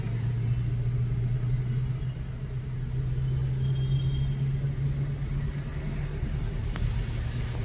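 A driving-school car crawls along slowly, its engine a low steady rumble throughout, with a faint squeal partway through and no talk over it.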